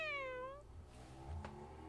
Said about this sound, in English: I didn't know you owned a cat, Malaysia.